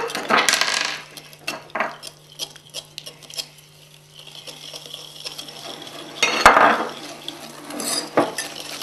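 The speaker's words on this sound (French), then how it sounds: "Commencez par mélanger dans un saladier le beurre avec le sucre" Butter and sugar mixed in a bowl for a frangipane galette des rois, with soft irregular scraping and tapping of a utensil against the bowl and quiet gaps between strokes.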